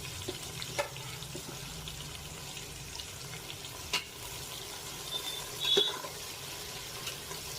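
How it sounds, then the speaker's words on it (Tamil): Finely chopped onions with spices fry in a pan until golden brown, a steady soft sizzle and hiss with a few light stirring clicks and knocks, no voices. "அதை நல்லா கோல்டன் ப்ரௌன் ஆகிற வரைக்கும் ஃப்ரை பண்ணணும்."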